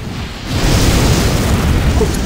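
A missile explosion in a multiplayer video game battle, a loud, close, rumbling blast that swells after half a second and roars on without a break.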